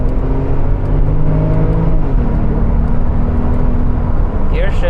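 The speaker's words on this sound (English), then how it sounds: "Oh, the acceleration is so addictive." A Porsche 911 Turbo S engine pulls hard under acceleration, a loud, steady drone with rising tones heard from inside the car, while a voice talks over it.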